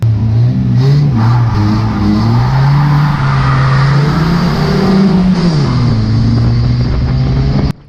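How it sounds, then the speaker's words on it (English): Stock cars at Cowdenbeath Racewall roar off the line at a race start, engines loud and close, revving hard with a steady rising drone and wheel spin, alone before cutting off abruptly at the end. "He gets a lot of wheel spin coming off the line and gets passed by the car that started behind him"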